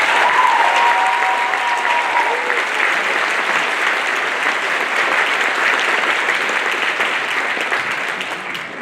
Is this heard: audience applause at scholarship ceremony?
yes